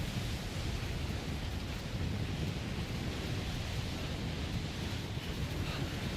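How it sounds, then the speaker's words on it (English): Storm weather in the video game Death Stranding: a steady, dense roar of wind with deep rumbling underneath, constant and unbroken throughout, with no talking. "This is a storm."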